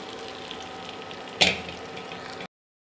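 Washed, cut okra hitting a hot pan of fried potatoes for a vegetarian okra dish: a steady frying hiss throughout, with one sharp sizzling burst as the okra goes in, then a continued sizzle before the sound cuts off.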